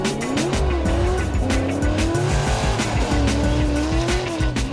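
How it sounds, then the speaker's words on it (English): A race car running a NASCAR engine swapped into a formerly front-wheel-drive Scion roars steadily on a test day, its engine note rising and falling while tires squeal and skid loudly and continuously throughout. "putting a NASCAR engine in what was a front-wheel drive Scion"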